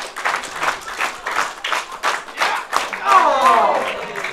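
A packed wrestling crowd claps in a steady, rhythmic unison beat during an indoor pro wrestling show, loud and close, with a commentator talking over the rallying applause.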